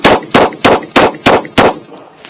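A Ruger RXM pistol fires six rounds in a steady, evenly spaced string. Each shot is a loud, sharp crack with a short ringing tail, and a faint high whine lingers after the last one.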